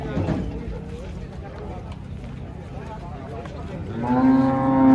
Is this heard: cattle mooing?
yes